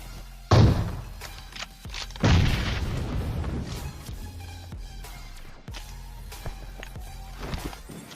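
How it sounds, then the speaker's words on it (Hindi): Two heavy grenade blasts in the mobile shooter PUBG Mobile, thrown low, each a loud booming thud with a rumbling tail over busy game ambience and small footstep clicks, no talk. "तो मैंने यहाँ पे लो टॉस पे 2 ग्रेनेड फेंक के।"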